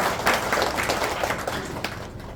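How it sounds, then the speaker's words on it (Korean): Audience applause welcoming a guest at a Daejeon arts groups' meeting with a mayoral candidate at Sangsang Art Hall: a dense, steady wash of many hands clapping, fairly close and sustained, tapering slightly at the end. "환영의 박수 보내주십시오."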